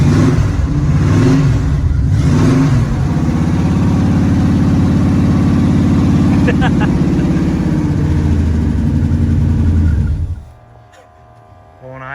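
An LS-swapped 1981 Camaro engine running at idle, a loud, close, steady low rumble that holds for about ten seconds and then drops away sharply near the end.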